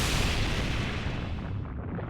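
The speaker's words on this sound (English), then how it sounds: "This barrage is the opportunity I was looking for." Dense, continuous rumbling booms of an artillery barrage in the Fate/Grand Order video game, loud and overlapping with no distinct gaps, fading slightly toward the end.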